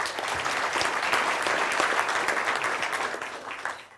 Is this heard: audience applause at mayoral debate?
yes